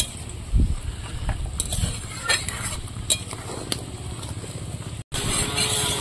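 A mourola fish curry (macher jhal) with cumin paste simmers in a pan, giving a steady, close bubbling and sizzling hiss with a few faint utensil scrapes and a brief dropout near the end.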